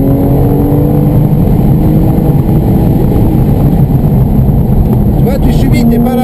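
A car engine pulls hard under sustained acceleration on a race track, a loud, steady drone filling the whole stretch with a coach's voice talking over it.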